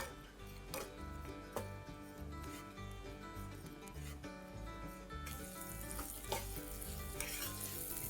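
Fresh turmeric pickle with chilli powder, dry ginger powder and salt being sautéed lightly in a pan: a soft, steady sizzle with occasional stirring scrapes, low under background music.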